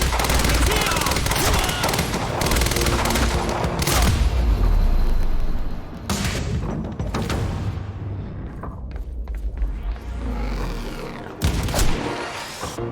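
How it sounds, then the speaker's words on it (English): Heavy gunfire in Quantum Break rattles in dense sustained bursts with booming impacts, loud and close, easing briefly before another volley, with a voice faintly under the shooting. "Open fire!"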